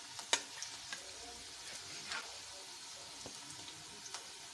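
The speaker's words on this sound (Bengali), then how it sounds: "চিকেনটা ঢেলে দিই।" Chicken for a masala paneer chicken curry goes into a hot pan, producing a soft, steady sizzle with a few light clicks and clatters and no voices.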